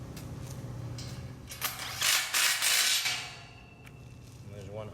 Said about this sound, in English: 1-inch bolt. Take it, screw it in down here.